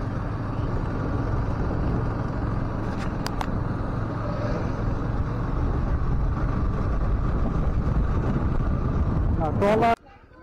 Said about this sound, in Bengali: ট্রলার